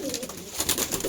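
A Saharanpuri pigeon coos in a short, soft burst, close by, alongside faint rustling and background noise.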